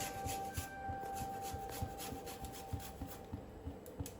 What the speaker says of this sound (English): Ginger, I am going to grate it and put it in this.